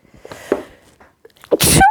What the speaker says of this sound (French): Là, il y a du soleil, sur le coup, ça me fait éternuer.